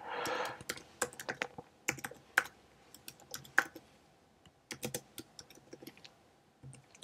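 Code being typed on a computer keyboard, with irregular bursts of crisp close key clicks separated by short pauses, and no voices.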